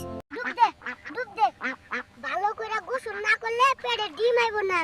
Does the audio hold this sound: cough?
no